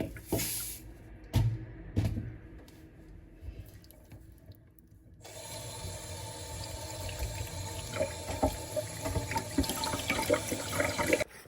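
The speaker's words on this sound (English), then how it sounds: "I clean the pork with water and with salt." Raw pork being washed with salt under running water at a sink, a steady close stream of tap water with splashing and handling noises, continuous for several seconds after some clattering at the start.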